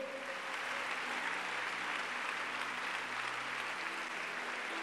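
A church congregation at a Christian conference applauds, a faint, even spread of clapping that runs steadily throughout, with a soft sustained musical tone lingering underneath.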